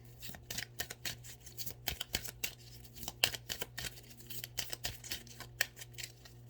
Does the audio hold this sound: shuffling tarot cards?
yes